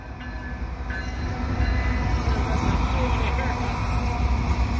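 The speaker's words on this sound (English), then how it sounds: "CN 100 locomotives too." A CN freight train hauled by ES44 locomotives rolls past nearby with a steady, loud rumble and rail noise that builds partway through, while people talk over it.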